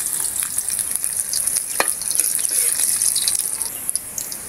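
Fish sizzling and frying in hot oil in a home kitchen for spicy adobong tambakol, a loud, steady hiss with crackling pops throughout and no voices.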